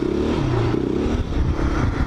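A quad ATV engine revs hard and close during a wheelie on dirt, a rough, buzzing drone that rises and wavers continuously with some clatter.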